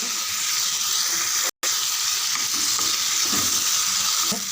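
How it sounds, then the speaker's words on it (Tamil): Garlic, ginger and curry leaves sautéing in a pan for a chana dal chutney give a steady, loud sizzle with stirring scrapes, broken by a brief gap. "இது கூடவே கொஞ்சம் கருவேப்பிலையும் சேர்த்து வதக்கிடலாம் ஃப்ரெண்ட்ஸ்."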